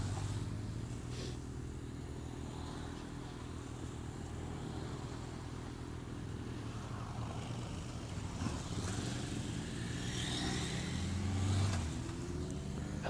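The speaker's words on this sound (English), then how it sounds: "So first is a long video of me letting the bikes past." Several motorbikes and a trike pass along a road at a distance, their engine hum faint and continuous, swelling slightly toward the end as one rides by.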